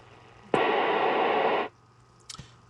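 FM transmission from a ham radio transceiver on 28065, a burst of loud hissing static lasting about a second that cuts off sharply, followed by a couple of faint clicks.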